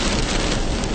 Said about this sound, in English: Jeez, what a storm.